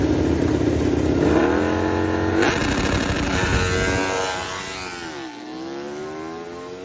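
A racing motorbike engine revs hard and loud, pitch climbing and dropping through gear shifts before easing to a lower whine.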